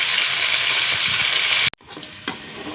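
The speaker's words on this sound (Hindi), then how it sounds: "घी गर्म हो गया है। अभी हम इसमें तकरीबन प्याज डाल देते हैं।" Chopped onions dropped into hot ghee for aloo pulao, a loud steady broadband sizzle that breaks off abruptly, then resumes quieter with stirring scrapes and a brief flare.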